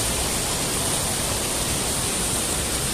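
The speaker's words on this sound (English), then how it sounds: "just walking by this little waterfall." Steady broadband rush of a small waterfall in Ottawa on a sunny day, a continuous close wash of falling water with no voices.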